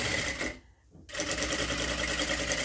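Sewing machine running steadily while stitching a boat neck princess cut blouse in a tailoring shop, a loud continuous rattling hum that stops briefly for a short pause before starting again.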